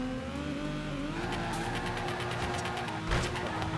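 A drifting car in the video game Torque Drift, its engine droning steadily with a sustained tire squeal and skidding throughout, a brief louder burst near the end.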